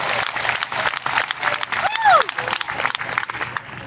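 Crowd applause with scattered clapping and cheering at a Black Lives Matter rally, a loud voice shouting over it, steady and fairly close throughout.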